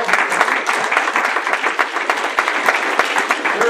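A large crowd at a Kentucky political forum on a Saturday morning bursts into sustained, loud applause, dense steady clapping filling the whole stretch with no break.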